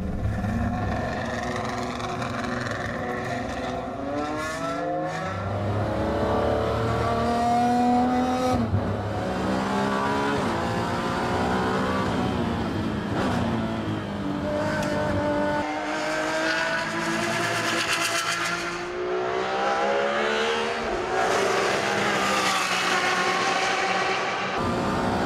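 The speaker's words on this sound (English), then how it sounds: "These are my extremely privileged 4 laps in the 599XX." Ferrari 599XX race car lapping a circuit, its engine howling through repeated rising revs and sharp drops at gear changes and braking, loud and continuous from inside or close to the car.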